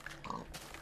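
Minecraft pig giving a few short, faint oinking grunts, brief and soft, with a quiet game background.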